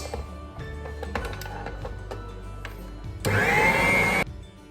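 An INALSA stand mixer whirs as it mixes cake batter with ajwain. Scattered clicks and bumps come first, then the motor kicks in loud and close for about a second before stopping.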